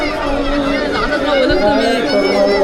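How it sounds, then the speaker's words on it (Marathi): Dense crowd chatter fills a busy village jatra honouring Bharadi Devi at Aangnewadi, a steady, close hubbub of many overlapping voices with no pauses. "खूप गर्दी आहे."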